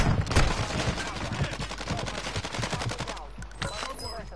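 Rapid bursts of gunfire in an online shooter game, dense automatic fire with overlapping shots and echoes, loud and close, continuing for several seconds before trailing off.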